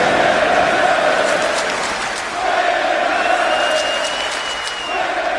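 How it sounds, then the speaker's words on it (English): A roaring arena crowd in the WWE 2K wrestling video game cheers and shouts continuously at high level, a dense wash of noise without letup. "This crowd going nuts for this contendership matchup."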